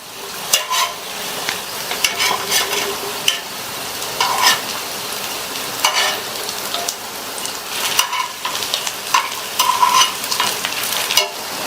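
Pieces of elephant foot yam frying in a pan, a continuous close crackling sizzle punctuated by repeated clinks and scrapes of turning the pieces, with no voices.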